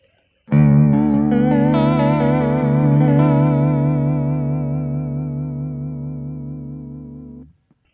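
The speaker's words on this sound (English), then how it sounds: "giving you a much more lush type of vibrato tone" TC Electronic Tailspin vibrato pedal in custom mode on electric guitar, a single sustained chord with lush, deep wobbling pitch modulation and reverb tail, loud and alone, ringing for about seven seconds before cutting off.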